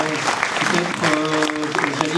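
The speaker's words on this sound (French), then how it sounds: "On peut l'applaudir." Conference audience at a workshop on reindustrialisation applauds, a short loud round of clapping with voices and some tonal sounds layered through it.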